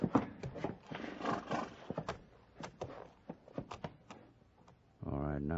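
Horse hoofbeats and movement as a sound effect in an old-time Western radio drama, a run of sharp clops and thuds under and between dialogue, ending in a steady rumble.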